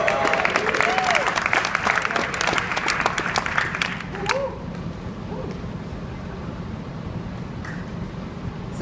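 An audience applauds startup companies at a demo day announcement of winners, loud dense clapping and cheering for about four seconds before fading to a low murmur of the room.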